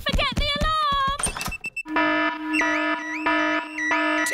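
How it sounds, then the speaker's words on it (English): After a burst of cartoonish voices and thumps, a house alarm blares in a loud, repeating electronic pattern that keeps cycling. "set off the noisy house alarm"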